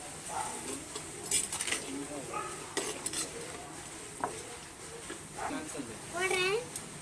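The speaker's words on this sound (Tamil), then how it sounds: "இப்போ கறியை நல்லா கிண்டிக்கலாம்." Spoon stirring mutton in a clay pot for a village-style Tamil dish, with scattered scraping clinks and faint sizzle, while a voice and occasional bird-like chirps sound over the background.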